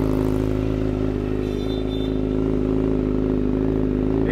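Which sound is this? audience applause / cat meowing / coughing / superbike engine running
superbike engine running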